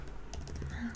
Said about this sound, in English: typing here all day long can really take it out of you